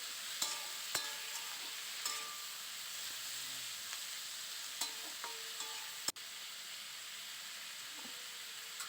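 Green tomato chutney is stirred in a hot pan, with a soft continuous sizzle and occasional spoon scrapes and clinks against the metal, faint and close with no talk.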